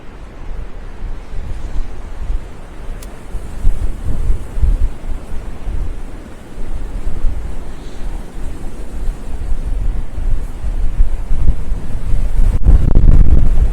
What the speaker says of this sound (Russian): Главное, чтобы ветром не сдуло меня.